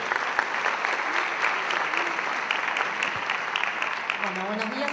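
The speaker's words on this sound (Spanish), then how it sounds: "a quien recibimos con un aplauso para compartir toda su experiencia y saber" An audience applauds to welcome the speaker Mariana, a dense, steady wash of many hands clapping throughout, with a voice faintly heard under it near the end.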